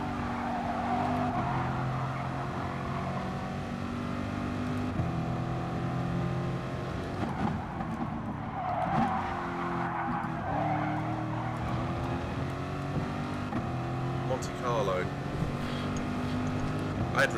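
Race car engine in Gran Turismo 7 droning steadily through a lap with shifting revs and tire skids, loud and continuous, with someone talking over it.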